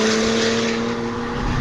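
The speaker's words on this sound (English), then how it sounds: "it actually has an exhaust on it" A 2017 Porsche Macan S with a PDK gearbox, an aftermarket exhaust and a COBB Stage 1 tune, droning with a steady, loud exhaust note that holds a constant pitch, heard alone for a moment.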